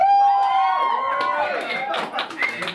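Crowd at a live performance cheering, whistling and clapping loudly and close up, with shouted voices rising over steady applause.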